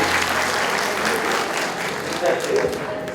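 Applause fills an awards and closing ceremony, a thick continuous wash of clapping from a crowd with some voices mixed in underneath.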